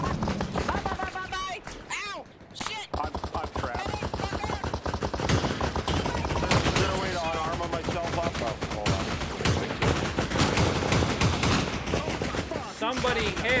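Dense, continuous gunfire in the military shooter Arma during an Afghan convoy battle with a BTR armoured vehicle, bursts and volleys running loud and close throughout, with a brief lull near the start and people talking over it.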